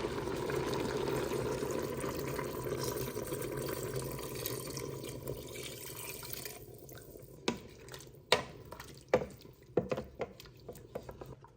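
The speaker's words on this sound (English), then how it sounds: "And now I'm gonna add 3 cups of water." Water pours from a cup into a pressure-cooker pot of lentil mushroom stew with bay leaf and oregano, a steady close splashing stream for several seconds, then a few separate drips and small splashes at the end.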